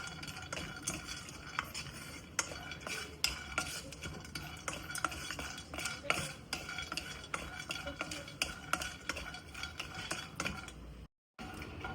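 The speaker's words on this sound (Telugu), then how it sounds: "ఇప్పుడు కాజు కూడా డ్రై రోస్ట్ చేసుకోవాలండి" Cashews dry-roast in a pan and a spoon stirs them continuously, with rapid scraping and clattering strokes close to the listener over a faint sizzle. The steady rhythm cuts out briefly near the end.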